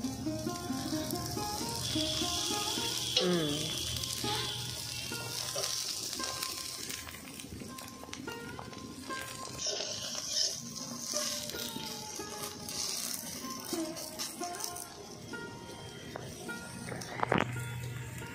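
White pitha made of rice flour, jaggery and salt fries in oil with a continuous crackling sizzle, and voices and household bustle are heard alongside.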